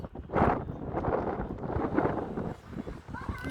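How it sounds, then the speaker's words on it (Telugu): Strong wind buffets the microphone in broad, rumbling gusts throughout, with voices talking underneath. "గాలి గాలి ఫుల్ గాలి."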